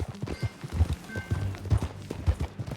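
Horse hooves clip-clop at a steady, uneven trot in the Western game Red Dead Redemption, with repeated close thumps over a continuous low rumble of outdoor ambience.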